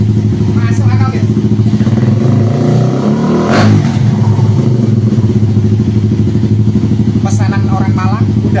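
A Suzuki Satria FU motorcycle engine idles loud and close after being restarted following seven years in storage, with a steady rough throb and a couple of brief revs.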